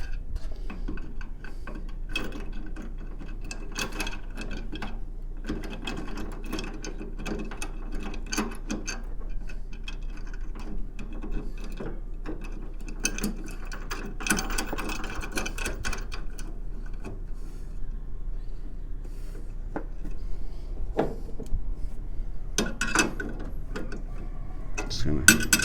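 A ratchet tightens a screw during installation of LED lights on a Toyota Tundra, giving repeated clicking and pawl ticks over a low, steady background rumble, close and moderately loud with no talk.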